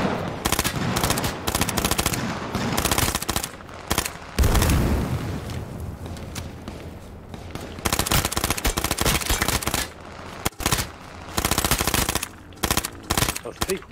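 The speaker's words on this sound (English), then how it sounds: "There's people behind us shooting us as well." Dense automatic and rapid gunfire from the video game H1Z1 on PS4, with loud bursts and sustained firefights running almost continuously, several shots seemingly from behind, with players talking over the shooting.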